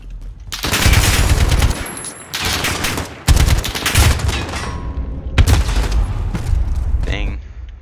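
Bursts of rapid gunfire from a video game gun, loud sustained rattling volleys separated by brief pauses, with a voice speaking between and over the shots.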